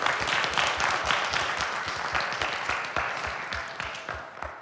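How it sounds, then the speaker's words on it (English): A church congregation claps in praise after a sermon, a dense, steady applause of many hands that stays loud throughout and eases off only slightly toward the end, with no talking over it. "give the Lord a hand clap of praise today"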